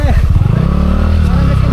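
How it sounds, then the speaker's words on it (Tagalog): A motorcycle engine runs loud and close, chugging with a strained, uneven note on a muddy riverside motocamping ride, while someone talks over it. "Yung motor eh, parang ayaw pumasok eh,"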